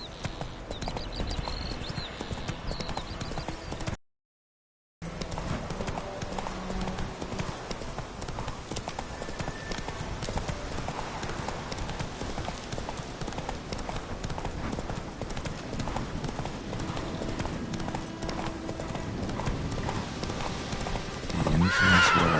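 The horse Roach trots in a video game with rhythmic hoof clip-clops and occasional whinnies, continuous over ambient game sound after a short silent gap.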